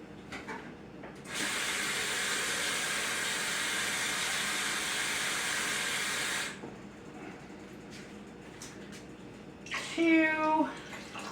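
Water pours in a steady continuous stream for about five seconds into a pot for chicken soup with mushrooms and wild rice, then stops, followed by quieter kitchen handling noises and a brief rattle near the end.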